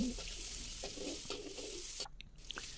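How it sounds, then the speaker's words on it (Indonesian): Sliced shallots and garlic frying in hot oil for Sundanese nasi liwet, a close steady sizzle with occasional stirring scrapes of a utensil, brief dip near the end, no talking. "kita langsung kita goreng ya, ada bawang merah, bawang putih yang udah diiris-iris gitu"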